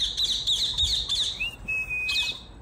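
Recorded African grey parrot calls play from a phone: a quick run of rising squawks, then a long thin whistle and another short burst, fairly loud and close.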